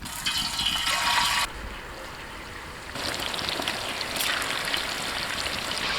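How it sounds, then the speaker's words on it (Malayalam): Marinated giant trevally pieces frying in hot coconut oil for a Kerala-style fish pickle, a steady close hiss and crackle of sizzling oil that swells and shifts over several seconds with no talk. "നമ്മുടെ വെളിച്ചെണ്ണയിൽ ഈ മീൻ കഷ്ണങ്ങൾ കിടന്ന് മൊരിയുന്നതിൻ്റെ ആ ഒരു ഫീലുണ്ടല്ലോ"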